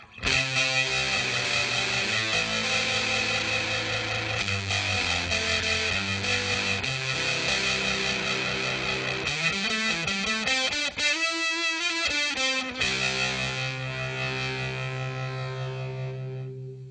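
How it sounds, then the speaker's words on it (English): Distorted electric guitar through an Electro-Harmonix Holy Stain pedal plays a sustained, continuous riff with shifting chords and a gliding bend near the end, loud and dense throughout with no talking. "So now let's bring in the distortion side."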